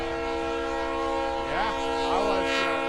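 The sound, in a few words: passing train with horn, wind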